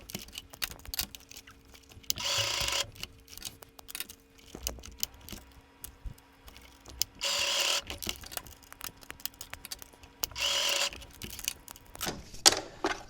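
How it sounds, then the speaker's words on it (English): A sewing machine stitches buckles onto a bike seat bag strap in three short, rapid mechanical bursts, separated by quieter handling clicks and ticking between runs. "and then sew the buckles on"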